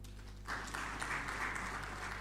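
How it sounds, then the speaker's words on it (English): An audience at a presidential address breaks into applause after a brief quiet moment, a steady wash of many clapping hands over a low electrical hum. "She deserves an applause."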